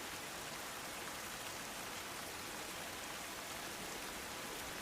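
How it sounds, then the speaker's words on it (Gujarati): Heavy rain pours steadily over Junagadh in Gujarat: a dense, even hiss of falling water that stays constant throughout, with no voices. "જૂનાગઢ જિલ્લામાં વહેલી સવારથી જ ભારે વરસાદ વરસી રહ્યો છે"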